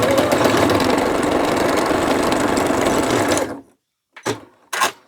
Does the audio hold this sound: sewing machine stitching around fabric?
yes